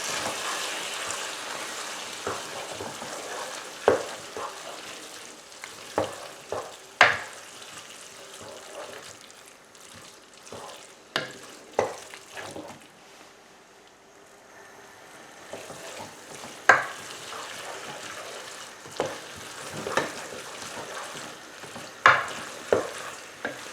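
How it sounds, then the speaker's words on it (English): Lasagne sauce with thyme and tomato puree being stirred in a pan: intermittent scraping and clacking strokes over a low, steady sizzle, close and moderately loud, with quieter stretches between bursts of stirring. "And give that a good stir."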